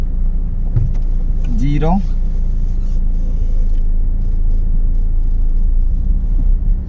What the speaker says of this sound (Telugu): ఒకసారి మనం ఈ వెహికల్ని లో స్పీడ్ టెస్ట్ చేద్దాం.